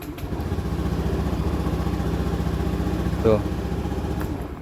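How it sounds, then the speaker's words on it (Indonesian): A Honda Beat scooter engine idles steadily after repair, a close, even putter with a brief rev bump near the end, while someone speaks a short word over it. "Alhasil motornya kembali nyala."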